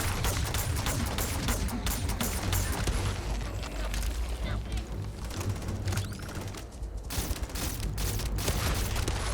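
Rapid gunfire from a weapon in Starfield crackles almost nonstop in dense, loud bursts, with heavy low thumps and mechanical clatter running through the whole stretch.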